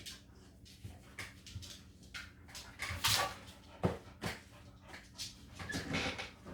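Eleven-week-old puppy whimpering and yipping in short, close bursts, with a few louder sharp peaks amid light handling noise and no talk.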